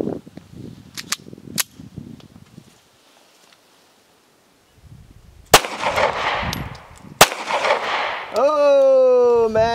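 A Taurus Spectrum pocket pistol fired at a close target, with several sharp, loud gunshot cracks spaced apart amid quiet rustling and handling noise, ending with a ringing, whistling tone.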